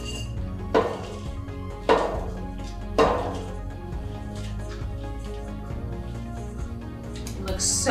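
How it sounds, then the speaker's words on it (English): Baklava nut mix tipped from a container into a mixing bowl, giving three distinct knocks and clatters of the vessel against the bowl, then softer scraping and rattling close by. "all we're gonna do is transfer this over to your mixing bowl"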